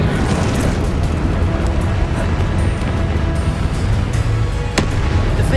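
Confringo and Incendio spell explosions in the video game Hogwarts Legacy, heard as a dense, loud continuous roar of blasts, fire and rumbling combat noise with no clear break throughout.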